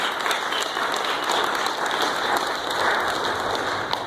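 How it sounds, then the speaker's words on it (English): A crowd at a food expo applauds steadily, a dense, even patter of many hands clapping that holds at the same level throughout. "So again, one more round of applause for all of our sponsors."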